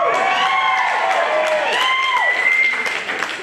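Live crowd at a wrestling show cheering, whistling and applauding steadily throughout, dense and loud with no break, voices of many people blended into the roar.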